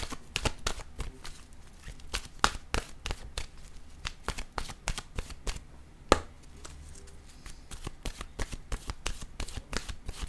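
Oracle cards being shuffled by hand in a rapid run of crisp riffling slaps and flutters close by, with one sharper snap partway through and no talking.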